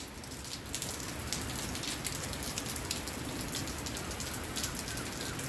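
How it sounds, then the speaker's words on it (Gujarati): Heavy rain pours down in Chhara village, a dense, steady hiss of drops striking surfaces close by, continuous and unbroken with no voices. "અને અટાણે જો વરસાદ તો જો ચાલુ જ છે."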